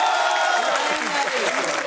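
Audience clapping on a TV reality show, a dense, loud burst of applause from a crowd that continues steadily throughout, with voices mixed in beneath it.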